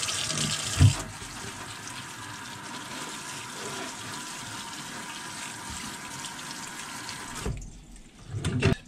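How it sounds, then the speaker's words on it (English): Water pours steadily from a watering can onto trays of popcorn shoots in a light watering, a continuous close splashing flow that stops abruptly near the end, followed by faint rustling. "Just a light watering."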